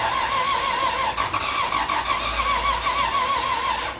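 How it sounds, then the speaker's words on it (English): A Lexus IS300 engine turns over and catches, then settles into a steady, close mid-pitched running hum with a slight waver, no voices present. "Dude, we got the 3000 started."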